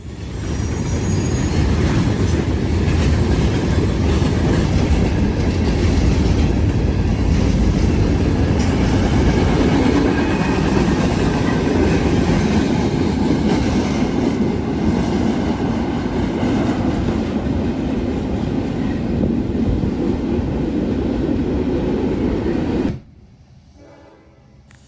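A CSX freight train with SD40-2 locomotives speeds southbound past the Marion Depot on the Sandusky District, a loud continuous roar of wheels and rail clatter with horn tones early on, ending in a sudden drop to quiet.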